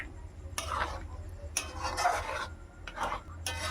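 A coconut naru mixture is stirred in a pan, giving repeated rasping scrapes in uneven strokes with short pauses, close and moderately loud, with no talking.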